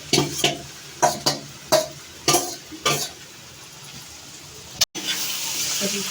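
Sukuti dried meat being stirred in a pan for pickle, a series of sharp scraping and clattering strokes at irregular intervals, followed by a faint steady sizzle.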